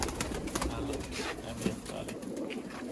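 Teddy pigeons cooing at a pigeon sale in Sialkot, soft low coos repeating close by over a faint background of rustling and brief voice.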